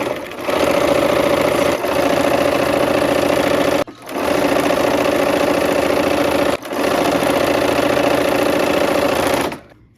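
A sewing machine runs steadily while stitching a scant quarter-inch seam, loud and close, in three long continuous bursts with short pauses between, no talking.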